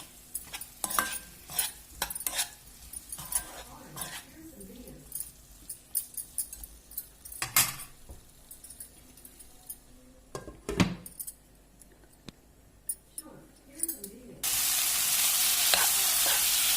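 Boiled elephant foot yam frying in a pan with salt and turmeric, with intermittent stirring scrapes and clinks over a faint sizzle, and a louder steady hiss rising near the end.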